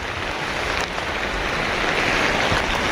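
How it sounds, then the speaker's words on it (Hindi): Heavy rain pours steadily over the Kedarnath mountain pilgrimage site during the monsoon month of Sawan, a dense, even hiss of falling drops that holds constant throughout with no voices over it. "लेकिन और ज़्यादा बारिश हो रही है।"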